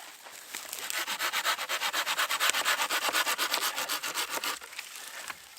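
A hand saw rasps steadily through wood in quick, even back-and-forth strokes, close and loud, with no talking, at an outdoor campsite.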